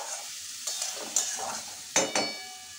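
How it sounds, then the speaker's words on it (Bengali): Yardlong beans and spice paste are stirred in a frying pan for a prawn and bean dish. Soft sizzling runs under a few sharp scraping strokes of the spoon, heard close and fairly quiet. "এবার ভালো করে মশলাটা দিয়ে বরবটি দিয়ে মিশিয়ে নেব।"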